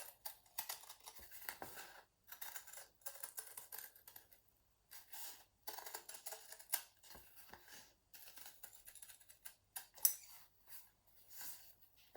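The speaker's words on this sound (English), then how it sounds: "I'm going to just cut out my design now, following my pencil lines." Scissors snip steadily through fabric, cutting out an appliqué design, in a series of short, crisp cuts with brief pauses between runs, close and fairly quiet.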